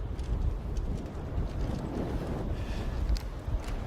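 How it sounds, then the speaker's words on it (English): Strong wind buffets the microphone in low rumbling gusts, rising and falling, with faint rustling behind it. "it's windy as fuck out here"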